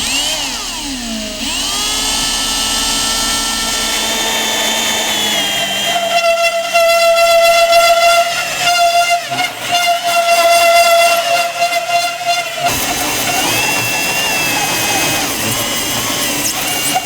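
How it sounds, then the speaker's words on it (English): A drill bores a large hole through acrylic for a custom instrument cluster, giving a loud, steady high-pitched whine with shifting pitch and a rougher grinding stretch midway, continuous and close, with no talking. "The key with cutting acrylic seems to be to keep it cool."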